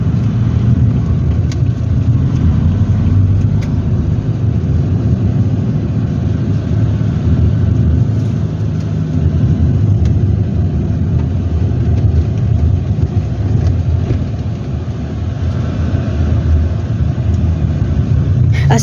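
A vehicle drives over a bumpy provincial road in Samar, Philippines, between Catbalogan and Tacloban, its steady engine rumble and road noise continuous and fairly loud throughout, with occasional knocks from the rough surface.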